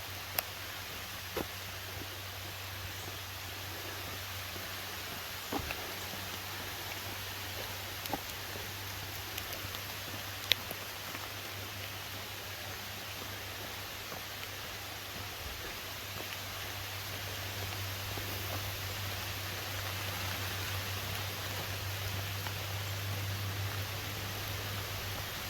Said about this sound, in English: Boy, if it keeps raining like this,